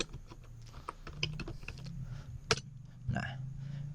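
Keys tapped on a computer keyboard while entering switch configuration commands, a run of quick irregular clicks with a couple of louder strokes, close and faint, over a low steady hum.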